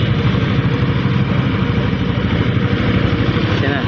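A Skygo Monarch Spear 180 motorcycle engine with stock radiator cover idling close by, a steady, loud low rumble with an even chugging pulse throughout.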